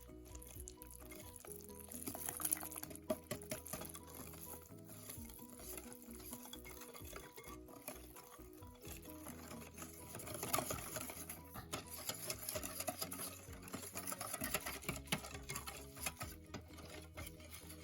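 A wire whisk beats puto batter in a bowl, a faint rapid rattling and clicking that keeps going through the whole stretch, with no voices.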